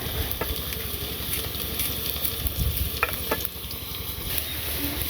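Potatoes with green chilies sizzle steadily in hot oil in a village kitchen, with bitter gourd to follow. Scattered clinks of a stirring utensil sit over the constant frying hiss.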